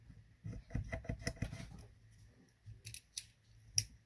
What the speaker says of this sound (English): We'll just be cutting up at the top of the paper instead of in the middle.